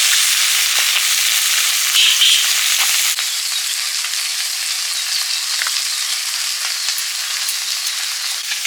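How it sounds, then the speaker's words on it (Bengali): Steady, loud sizzling of small mola carplet (mourala) fish frying in hot oil, a dense crackling hiss throughout with occasional small pops, no voices. "মাছগুলো পরপর ভেজে নিচ্ছি"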